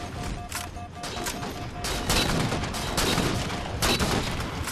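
Sniper rifle fire in Halo 4 multiplayer comes as repeated sharp cracks spaced irregularly over a dense, noisy battlefield background, loud and close with no pauses between the ambient din.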